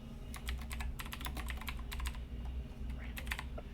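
Steady typing on a computer keyboard, rapid clusters of key clicks close by with a low hum underneath and no talking.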